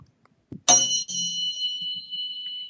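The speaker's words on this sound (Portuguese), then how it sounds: "um som bem parecido com o do sino tibetano" A single bright metallic strike like a Tibetan bell rings out with a clear sustained 174 Hz tone that slowly fades, preceded by a soft tap.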